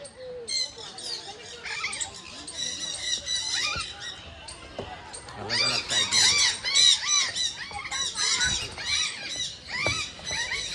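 Parrots squawk repeatedly at a park on a picnic outing, harsh overlapping calls rising and falling close by, with denser bursts in the second half and faint background murmur.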